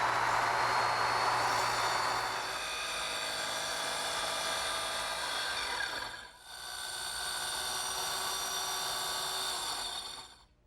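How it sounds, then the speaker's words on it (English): A small circular saw cross-cuts the plywood floor of a doll house, guided along a square; a loud, steady whine runs through the cut, dips briefly partway, then resumes until it winds down near the end. "I'm going to use a small circular saw and a square to help guide me to make the cross cuts."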